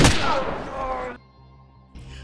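A loud gunshot from an action film set in a prison, a sharp blast with a ringing tail that cuts off abruptly, then a brief quieter sound near the end.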